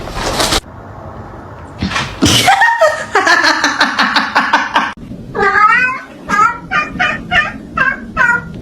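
A cat meows repeatedly and loudly up close, a run of drawn-out and short cries with gaps between them, mixed with a person's voice and laughter.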